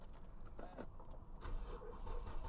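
A Chevy Avalanche engine cranks and catches, a faint rough start heard from nearby over about two seconds with no voices.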